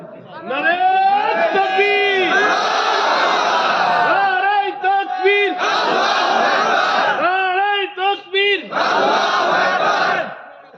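A large crowd at an open-air Islamic religious gathering shouts slogans in unison, loud and near, in repeated bursts of call-and-response chanting with short pauses between rounds.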